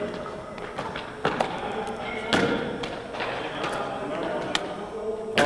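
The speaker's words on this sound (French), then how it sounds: "On lance dans le milieu du mur juste pour la donner easy." Baseballs thrown against the middle of a wall land with several hard thuds at irregular intervals, close and sharp, amid background chatter and noise from a group practice session.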